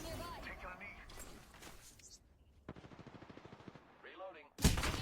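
In a shooter video game, a quick run of automatic gunfire rattles out, then a loud close shot hits at the end, as a player talks over the shooting.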